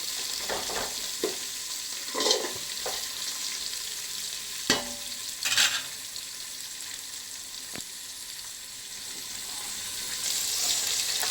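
Onions fry in a pan for chicken biryani, giving a steady close sizzle broken by several sharp clinks and scrapes of stirring.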